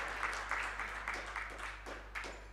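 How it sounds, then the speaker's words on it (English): A lecture audience gives moderators a light, faint round of applause with uneven clusters of claps over a steady low electrical hum. "please give them a round of applause"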